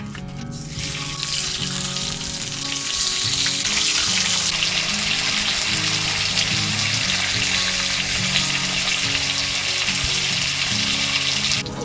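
Bacon frying on a hot wood-burning tent stove during winter camping at -26C, a loud, dense, continuous sizzle close up with crackling spatter that stays even throughout, no one speaking.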